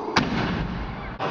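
Booming explosion effect on a TV entertainment show: one sharp blast, then a sustained roaring rumble, and a second burst at the very end.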